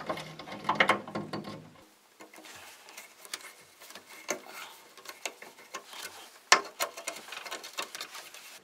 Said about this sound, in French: il faut bien tourner ces espèces de vis pointes pour les faire sortir